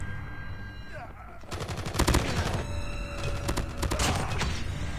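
Rapid automatic gunfire from a gold Holger 26 light machine gun in Call of Duty Mobile, loud sustained bursts with brief pauses, some quieter shots first, up close over game ambience.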